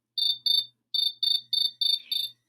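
A single cricket chirps in seven crisp, evenly spaced bursts of high trilling, each pulse loud and close against silence.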